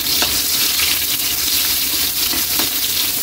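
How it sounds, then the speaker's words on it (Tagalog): Onion fries in hot oil as it is stirred, a loud dense sizzle and hiss with a few faint spatula knocks, close and continuous, no voices. "Yan, lagay na natin yung sibuyas."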